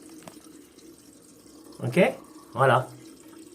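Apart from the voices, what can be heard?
toilet cistern refilling with water through small float valve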